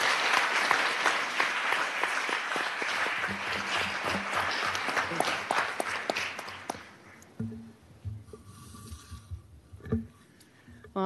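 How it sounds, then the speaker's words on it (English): An audience at a community conversation event on suicide applauds its panel. The clapping is loud and full at first, then thins out and fades, leaving a few scattered claps and light room noise. "let's give our panel a round of applause."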